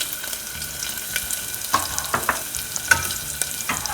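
Ginger and a green chili frying in a pan over a low flame: a steady soft sizzle with a few sharper crackles and scrapes of stirring, close and alone.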